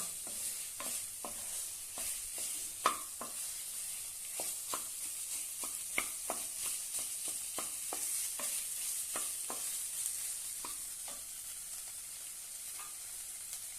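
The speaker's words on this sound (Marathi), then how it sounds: "मस्त परतून घेऊया" Boiled potatoes in a spicy curry masala sautéing in a pan, with a steady soft sizzle and repeated scraping clicks of a spoon stirring, close and quiet.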